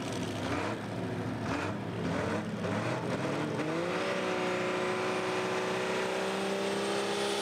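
A Limited Pro Stock drag racing car at a drag meeting revs hard and launches, its engine note climbing and settling into a loud, sustained high-revving roar as it pulls away.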